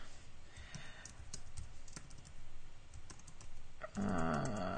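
Steady rapid typing on a computer keyboard, close and continuous, with a brief burst of louder rustling near the end.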